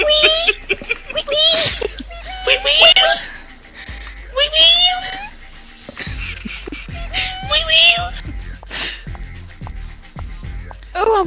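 Cat meows, several short rising and falling cries recurring through the stretch, mixed with overlapping voices and laughter in a playful indoor setting.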